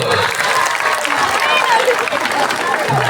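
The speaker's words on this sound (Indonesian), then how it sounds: "Tepuk tangan dulu." Steady applause from a room full of people at a school religious ceremony, dense continuous clapping that holds for a few seconds with murmuring voices mixed in.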